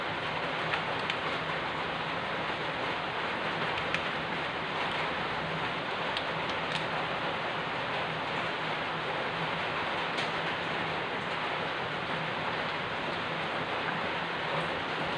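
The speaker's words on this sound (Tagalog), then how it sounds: "kung maingay kasi umuulan dito sa amin ngayon" Steady rain falls outside a home kitchen, a continuous broadband hiss with no breaks, moderately loud and heard alone with no talking.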